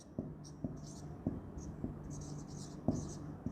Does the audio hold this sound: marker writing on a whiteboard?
yes